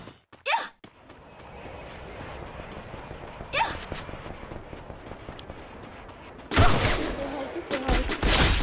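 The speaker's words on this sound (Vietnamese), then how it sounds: "À, nó còn bắn." Video game gunfire, a few quick bursts of shots early on and then a louder, denser volley near the end, with people talking quietly in between.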